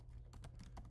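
Keys on a computer keyboard are struck several times in quick, uneven succession. The clicks are soft and close, with a low steady hum underneath.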